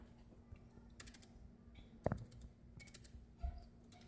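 Keys on an RDP Thinbook 1430 14-inch laptop keyboard are pressed in sparse, faint clicks scattered over a few seconds, with one sharper knock near the middle, in a quiet room without talking.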